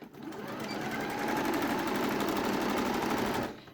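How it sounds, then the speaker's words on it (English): A sewing machine stitching a dungaree bib from top to bottom, a fast steady mechanical whir that starts, runs evenly for a few seconds and then stops. "What we're going to do is we're going to sew from the top down to the bottom."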